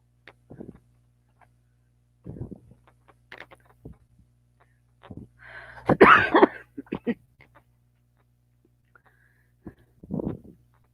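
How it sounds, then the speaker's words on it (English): A single harsh cough bursts out near the middle, surrounded by scattered soft clicks, breaths and throat noises in an otherwise quiet room. "Sorry about that cough there."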